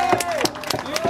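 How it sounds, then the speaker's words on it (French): Crowd applause at the 4 km finish podium of the Golden Islands Race, a steady patter of clapping hands with a voice running over it. "On applaudit Alexandre Grégoire."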